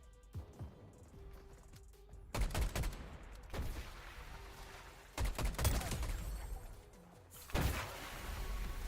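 Gunshots in a video game: several sharp bursts of rapid fire arrive in clusters separated by quieter stretches, fairly faint overall with lingering echo after each volley.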